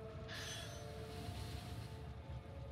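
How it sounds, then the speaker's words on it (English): Trains roll past in Factorio with the Krastorio mod: a continuous rumbling rail clatter with sustained metallic squeal tones throughout, fairly close and steady, with no speech. "Oh, two more trains are coming."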